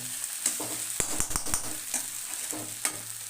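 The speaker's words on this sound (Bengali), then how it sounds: "আর এদিকে মাছের ঝোলটাও ফুটে উঠেছে" A pan of rohu fish curry with potato bubbling and sizzling on the stove, a steady close simmer broken by soft clinks of stirring, with no voices.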